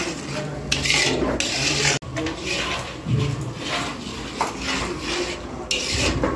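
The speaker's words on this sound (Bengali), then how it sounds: "এখন কিন্তু সমানে নাড়তে হবে" Spice paste is stirred steadily in a pan for cauliflower roast, a close, scraping and rubbing sound with utensil clinks and a sharp knock partway through.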